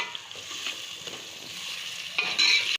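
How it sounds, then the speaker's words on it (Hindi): Onions sautéing in a pan for lobiya qeema give off a steady soft sizzle with light stirring, swelling louder in the last half second before cutting off; no one speaks. "इसमें प्याज को हमने ब्राउन नहीं करना है, थोड़ी सौते करनी है प्याज को कि ये सॉफ्ट हो जाए"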